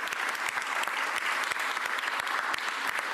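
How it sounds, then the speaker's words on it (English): Sustained audience applause at a Philadelphia city event with the mayor, dense steady clapping from a sizable crowd, even in loudness throughout with no talking over it. "Big round of applause."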